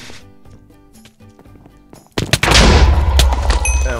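A TNT blast goes off in a Minecraft Bedwars match: after quieter game music and clicks, a sudden loud burst hits and a dense, roaring crackle of debris and rumble carries on to the end.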